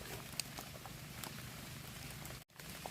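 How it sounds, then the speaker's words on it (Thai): Light rain patters steadily and softly across an outdoor spot where mushrooms are being gathered, a continuous fine hiss with a few brief louder drips and a short drop-out near the end, no voices. "ฝนตกรินริน"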